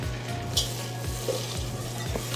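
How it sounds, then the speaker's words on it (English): Butter melting and being stirred in a pan on a home kitchen cooktop, made into icing for a sheet cake: a steady low sizzle with a repeating scrape of the spoon roughly every half second, and a few light clinks against the pan. "Now I've got some butter melting on the cooktop. Let's go ahead and stir this up"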